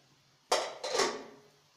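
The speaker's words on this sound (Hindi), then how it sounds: "इसके बाद में हम प्रेशर कुकर खोल लेंगे।" A pressure cooker, used to boil tomatoes, is opened with two close metallic clanks and rattles of its lid and pot, the second trailing off as it rings.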